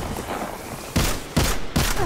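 Anti-aircraft turrets fire in the video game Destiny 2, delivering three loud, sharp bursts of gunfire at regular intervals after a stretch of quieter rumbling.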